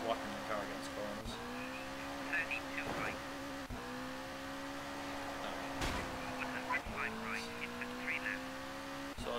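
Rally car engine in the Colin McRae Rally 2.0 video game, a loud buzzing drone that rises in pitch through the gears, dropping at each shift, with sharp knocks as the car strikes corners.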